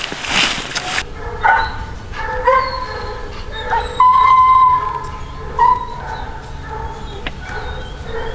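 A hunting hound barks and yips in short bursts at moderate distance, with whines between calls and faint outdoor background noise.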